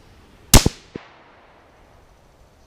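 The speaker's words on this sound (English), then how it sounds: "So put the crosshairs right in the bullseye and squeeze the trigger." A single sharp crack from a bolt-action .17 HMR rifle fired at a bullseye target, loud and close with a quick fading tail, followed by a couple of fainter knocks shortly after.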